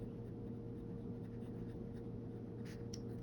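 A Jinhao 82 fountain pen with a fine stainless steel nib scratching across paper, faint and close, a soft continuous scritch over a steady low background hum, with no talking.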